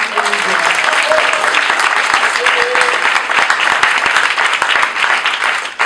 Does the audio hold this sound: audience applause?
yes